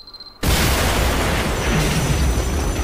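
A C4 charge detonates in the Deadpool video game: a sudden loud boom hits after a brief quiet moment, then a thick, roaring blast rumble sustains to the end without voices.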